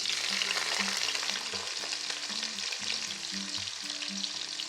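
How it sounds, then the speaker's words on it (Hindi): Onions dropped into hot oil for a daal mash dish, with a loud, continuous crackling sizzle close up over faint background music. "यहाँ पे ऑयल जो है वो गरम हो गया है। अब हम इसमें डाल देते हैं प्याज।"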